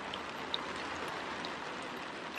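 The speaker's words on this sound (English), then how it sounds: "Here, you can hear the rain." Rain falls on the roof of a sunroom, a soft, even hiss with a few brighter drop ticks scattered through it, heard alone without talking.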